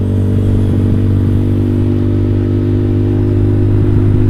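A motorcycle with a JB159 trioval exhaust holds a steady, loud, deep idle right beside the listener, a thick low rumble with a slight lumpy pulse and no talking.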